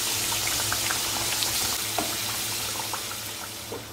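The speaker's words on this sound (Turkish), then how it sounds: "Arka tarafta kızartmaya devam edeyim." Potatoes frying in hot oil on a stovetop, a steady dense sizzle with scattered pops and crackles, close and continuous with no talking.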